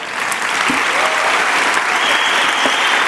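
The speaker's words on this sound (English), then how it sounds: "Give yourselves a round of applause." Applause from a crowd of nearly 3,000 in a theatre at a live finals event, a dense, steady roar of clapping filling the whole stretch without a break.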